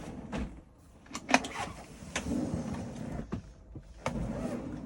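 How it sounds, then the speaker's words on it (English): A slide-out cutlery tray drawer in a Benimar Tessoro 413 motorhome slides out with a short mechanical whir and rattle, followed by a few soft knocks and clunks nearby. "in here you'll find your slide out cutlery tray"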